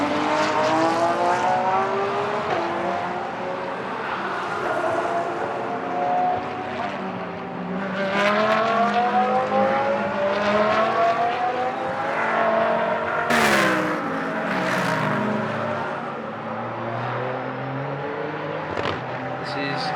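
GT race cars, including a WRT Audi, lapping in free practice at a Moscow circuit, engines sustained and loud with rising and falling pitch sweeps as cars pass, commentary voices running underneath.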